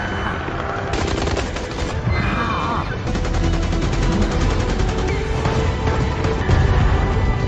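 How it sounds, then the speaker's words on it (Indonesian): Rapid automatic gunfire from a heavily armed colonel shooting at approaching raptors in the film Primitive War, dense repeated bursts crackling loudly over a rumbling action soundtrack, continuous throughout. "Kolonel yang sudah membawa persenjataan lengkap pun langsung menembaki para raptor yang datang mendekat"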